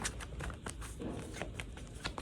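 Cards being shuffled close by, a quiet run of rapid riffling flicks and soft slaps, with no talking.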